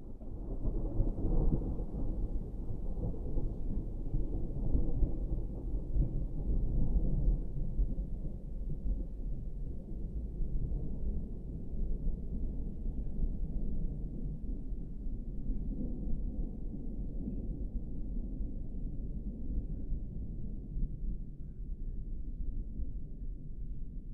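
A deep, steady rumble of a storm, thunder rolling low and continuous with a muffled wash of rain, gradually easing over time.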